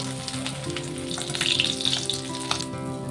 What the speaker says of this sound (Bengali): তেলটি গরম হয়ে গেছে, মাছটাকে ভেজে নেব।